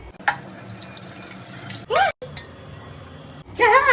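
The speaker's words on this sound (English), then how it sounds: "We'll strain the spaghetti and pasta water बचा लेंगे." Hot pasta water from cooked spaghetti is poured off through a strainer at a sink in a home kitchen, a gushing splash in short bursts with light clinks between.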